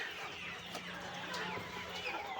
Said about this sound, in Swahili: Home of quality jogoo of Isa Brown Layers.